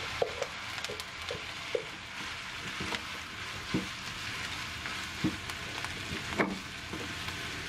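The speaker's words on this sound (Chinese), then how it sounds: "先将胡萝卜丁倒入锅里翻炒， 然后再把米饭倒入锅里翻炒均匀" Diced carrot and cooked rice stir-fried in a wok, a steady moderate sizzle punctuated by regular scraping and knocking strokes of the spatula.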